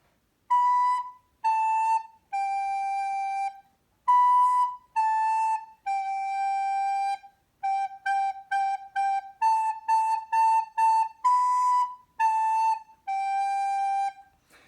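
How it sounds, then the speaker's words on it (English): A recorder plays Hot Cross Buns, a simple three-note melody in clean, breathy whistled tones, heard alone with short separated notes and phrases repeating over about fifteen seconds. "When we are playing Hot Cross Buns, it sounds like this."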